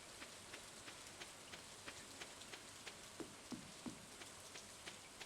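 Rain falls in the farming video game Stardew Valley as a faint, steady hiss, with soft droplet ticks landing at regular intervals. The sound is quiet and alone, with no voices.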